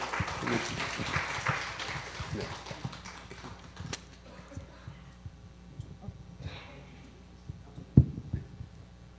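Scattered congregation applause in a Korean church service, a short burst of uneven clapping that quickly thins to a few isolated claps and soft room noise, with a sharp knock near the end.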